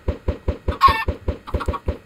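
Minecraft chickens clucking in a pen, a rapid, steady run of short, close clucks in a regular rhythm, with one brief squawky burst in the middle and no talking.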